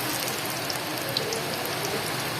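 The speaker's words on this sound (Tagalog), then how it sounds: "Nasa inyo pa lang sentro ng bagyo, napakalakas ng ulan." Heavy typhoon rain pours down steadily, a dense even hiss of drops hitting surfaces nearby with no pauses and no voices.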